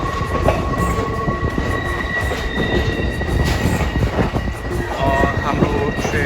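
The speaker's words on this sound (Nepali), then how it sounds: "हाम्रो ट्रेन अगाडि बढ्ने क्रममा छ हामी अब ट्रेनको यात्रा सुरु गरिसकेको छौँ" Lehigh Gorge scenic train rolling along the tracks near Jim Thorpe, Pennsylvania, heard from on board with a steady rumble, wheel squeals and clacking, while people talk over it.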